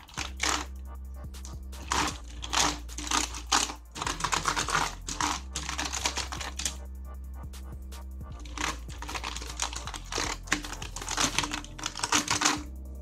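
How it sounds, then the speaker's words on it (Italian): Fingers tap quick clattering bursts on a computer keyboard coated with cleaning gel, crisp key clicks in rapid runs broken by short pauses, close and alone without speech. "Proviamo con quest'altra tastiera."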